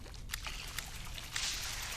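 A short burst of in-game watering in the weed-growing management game Weedcraft Inc, a soft splashing pour with a brief gush near the start and a louder wash of trickling water toward the end, with no talk over it.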